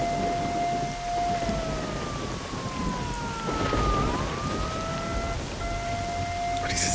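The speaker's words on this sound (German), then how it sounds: "diese Sirene macht mich wahnsinnig" A wailing siren rises and falls in pitch over steady heavy rain, the tone sweeping up and down continuously in a scene from the game S.T.A.L.K.E.R.: Shadow of Chernobyl.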